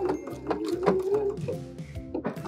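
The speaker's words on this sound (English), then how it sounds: "I'm gonna put it under the foot and I'm going to stitch down a few stitches" A sewing machine stitches a few stitches into a fold of fabric held under a rolled hem foot, giving a close, rhythmic mechanical whirring with short pauses and a brief stop near the end.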